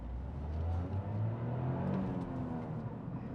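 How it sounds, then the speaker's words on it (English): A Toyota GR Yaris hot hatch launches hard from standstill in track mode, its engine a loud, steady, close rumble with a rising revving tone throughout. "let's do a quick little launch in track mode with the GR Yaris"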